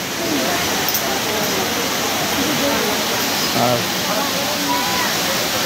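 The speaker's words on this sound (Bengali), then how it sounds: "এই দিকটা রয়েছে এই ঝর্ণা" A waterfall beside a temple near Katra roars with a steady, dense rush of water that fills the whole clip, with a voice briefly audible over it.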